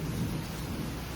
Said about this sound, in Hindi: और बारिश तेज हो गई